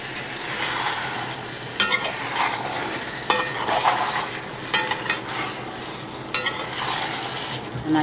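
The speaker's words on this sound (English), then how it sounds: "You can hear it's all frying." Rice and chicken fry and sizzle in a pot for Trinidadian pelau while a utensil scrapes and clanks against the metal every few seconds, with no voices.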